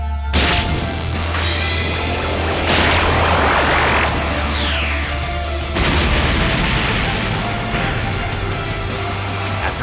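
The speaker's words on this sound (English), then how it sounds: "an explosion vibrates the entire palace" Loud layered booms and crashes rumble through an animated Dragon Ball fight as an explosion shakes a palace, with sustained roaring blasts, whooshing sweeps and a low steady drone under several big impacts.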